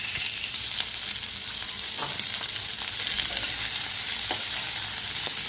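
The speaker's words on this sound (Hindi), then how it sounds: "थोड़ी देर इस प्याज को भी भूनेंगे।" Onions fry in a pan while cooking shahi paneer, a loud, steady hiss of sizzling oil close up, with occasional soft scrapes and taps as they are stirred.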